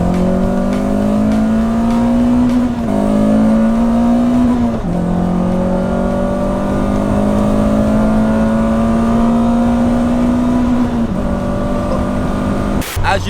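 A Peugeot 106 Rallye hot hatch with a modified air intake, engine revving hard toward 7,000 RPM in long rising pulls broken by quick gear changes, loud and close, with the engine note climbing steadily through each gear.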